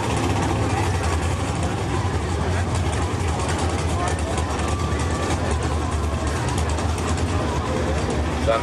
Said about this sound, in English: 1963 Corvette with 808 cubic inches of Oldsmobile engine.